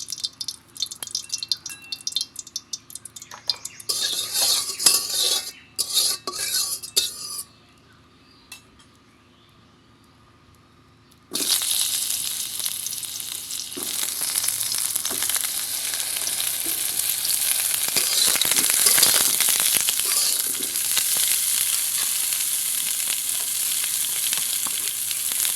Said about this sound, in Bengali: কড়াইয়ে ঘি দিয়ে একটু পটলগুলো ভেজে নিব।